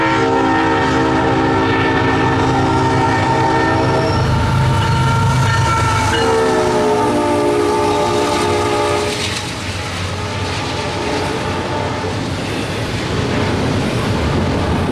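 A CSX freight train led by locomotives 1776 and 9280 rolls past loudly and close, its horn blaring in long blasts over the steady rumble and clatter of the cars.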